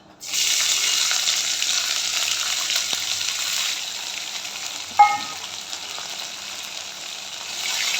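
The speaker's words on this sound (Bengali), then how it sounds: "আদাটা একটু ভালো করে ভাজা ভাজা করে নিব" Crushed ginger fries in a pan for a lentil dal, a loud even hiss of sizzling oil that eases slightly midway, with one sharp utensil clink.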